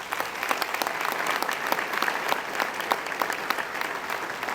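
A luncheon crowd gives a steady round of applause for the event's sponsors, dense continuous clapping with sharp individual claps standing out, heard on its own without voices.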